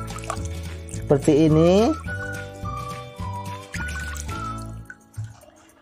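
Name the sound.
rinsing orchid seedlings with clean water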